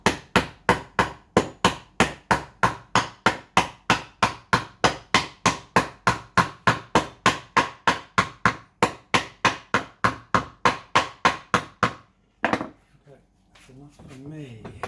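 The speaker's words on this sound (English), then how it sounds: "So let's try this hammer here." A hammer strikes a glue-up of six teak pieces in a fast, steady run of about forty sharp close knocks. Then the blows stop and someone speaks.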